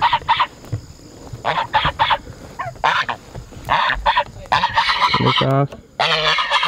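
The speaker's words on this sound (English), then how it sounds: "Now we gotta move the turkeys." Loud, close turkey calls ring out in repeated harsh bursts on a homestead as the flock is moved, with a person briefly speaking among them.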